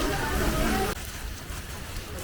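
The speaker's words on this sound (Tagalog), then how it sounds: "Grabe yung ulan niya, yung parang ano talaga. Full blown na ulan, hindi yung ambon-ambon." Heavy, steady rain falls outdoors in Taiwan, making a dense hiss that drops abruptly to a softer, more even wash about a second in.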